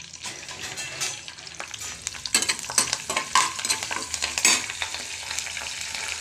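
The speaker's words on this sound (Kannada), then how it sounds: "ಎಣ್ಣೆ ಕಾದಾದ ನಂತರ ಸಾಸಿವೆ ಕರಿಬೇವಿನ ಸೊಪ್ಪನ್ನ ಹಾಕಿದ್ದೀನಿ" Mustard seeds and curry leaves crackle and pop in hot oil in a kadai for tempering, a steady close sizzle broken by dense, sharp spitting bursts that grow busier midway, with no voices.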